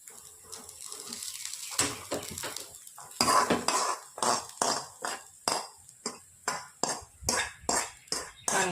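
A sautéed mixture is poured into pearl millet rice batter for spicy paniyaram, then a spoon scrapes the bowl in steady, rhythmic strokes that grow louder and regular, close by with no talking.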